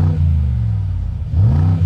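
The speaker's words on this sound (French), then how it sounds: "Ah, ça fait des petits retours et c'est limité à 4000 tours minute." Mercedes G-Class V8 with its exhaust set open, revving near and loud against a 4000 rpm limiter, a deep steady engine roar that dips briefly and then climbs again with a rising whine.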